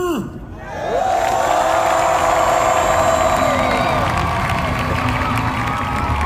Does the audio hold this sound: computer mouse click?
no